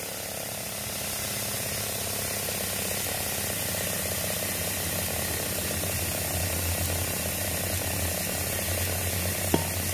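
A Twin Jet 60 nozzle sprayer engine runs with a steady, loud mechanical drone and a constant spraying hiss, unbroken for the whole stretch with a small click near the end.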